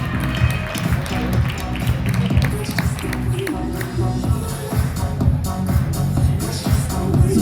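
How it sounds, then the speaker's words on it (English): Audience applause at a fitness competition, a dense, sustained clapping from a large crowd filling the whole stretch without letup. "one more round of applause for our Bikini Masters division in their theme wear"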